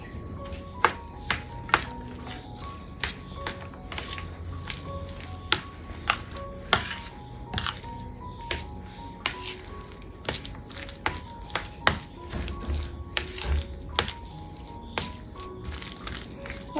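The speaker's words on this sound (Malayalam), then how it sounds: "എന്നിട്ട് നന്നായിട്ടൊന്ന് മിക്സ് ചെയ്യാം." Spiced banana batter being mixed in a bowl, repeated light clinks and taps of a spoon against the bowl in an irregular rhythm over a quiet kitchen background.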